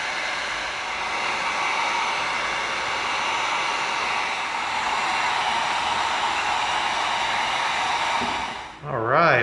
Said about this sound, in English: now we're going to heat seal.